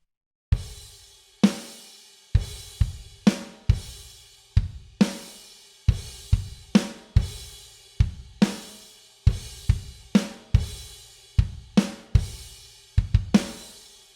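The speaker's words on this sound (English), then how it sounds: "here's how the chorus beat goes." Full drum kit playing a song's chorus beat, punchy kick and snare hits with bright crash cymbal accents on the offbeats, steady driving rhythm, loud and close with no voices.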